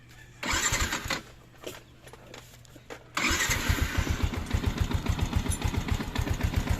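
Yamaha Sniper FI 150 motorcycle engine starting: a starter whirs and cranks, catches briefly, then fires and settles into a fast, even idle putter up close.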